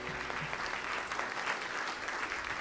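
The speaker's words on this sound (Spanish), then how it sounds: "Te invito a que le demos un fuerte aplauso en esta hermosa tarde." Applause from a congregation during a church service, a steady dense clapping that fills the room for the whole stretch without pause.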